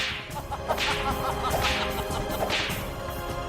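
Whip lashes crack in a Jhansi Ki Rani historical drama scene: three sharp, evenly spaced strikes, close and fairly loud over a dull background, with no talk.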